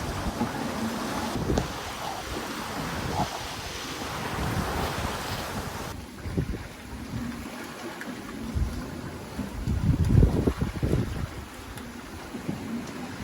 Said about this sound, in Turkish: Halen yelkenle gidiyoruz. Seyirimiz yelkene devam ediyor.